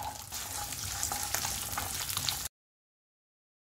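Shallots, garlic and dried chillies fry in a pan for mint chutney, a dense close sizzle with small crackles for a couple of seconds before cutting abruptly to silence.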